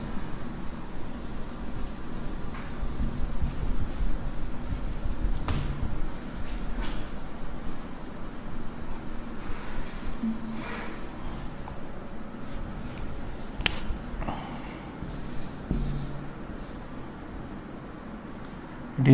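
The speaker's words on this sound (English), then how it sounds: "I will write here in the place of this." Pen or chalk scratches and rubs across a writing surface during a Sanskrit lesson, faint intermittent scrawling strokes with occasional sharp taps, close but quiet against a hushed room.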